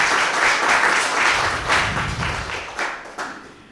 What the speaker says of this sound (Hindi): तो एक जोरदार ताली से दीदी का स्वागत तो बनता है।